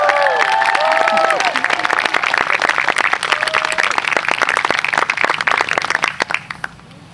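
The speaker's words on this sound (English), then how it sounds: "let's give a big round of applause for Jenna Borco" A crowd applauds at a high school graduation ceremony, with dense clapping and some shouted cheers near the start, holding strong before tapering off into quiet at the end.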